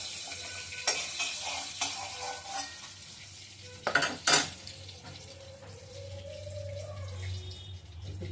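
Oil sizzling in a pan just after fish has been fried, a soft continuous frying hiss under several sharp clinks and scrapes of utensil against the pan, with a brief louder clatter midway.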